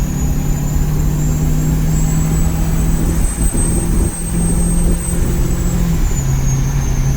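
A compound-turbo 6.7 Powerstroke truck engine drones steadily while towing a heavy trailer, heard close through an open window with a constant low rumble and a high turbo whine rising and falling over the road noise.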